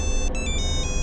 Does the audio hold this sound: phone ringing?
yes